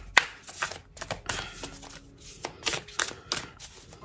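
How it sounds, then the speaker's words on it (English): Tarot cards are shuffled in a series of quick riffling bursts and soft slaps, close up and fairly quiet. "Shuffle these cards and see what we can find here."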